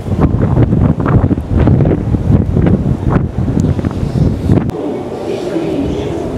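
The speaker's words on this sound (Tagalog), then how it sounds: "grabe yung wind chill ngayon. Mahangin lang, no?" Heavy wind buffets the microphone in loud, rumbling gusts on a cold, windy street in Kabukicho, Shinjuku, Japan, with someone speaking over it for most of the clip.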